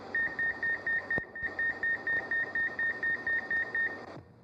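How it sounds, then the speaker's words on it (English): Fryer duty timer in a video game beeping to signal a basket shake: a rapid, even run of about fifteen short electronic beeps over four seconds, fairly loud over a faint background hiss. "That's your duty timer telling you it's time to shake basket at duty cycle."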